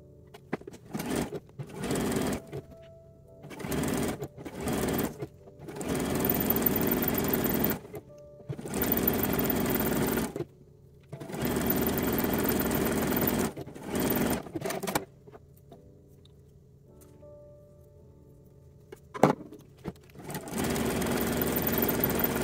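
A sewing machine stitches elastic onto lingerie at the leg line of a lined-cup teddy, running in repeated bursts of a few seconds each, separated by short pauses, loud and close.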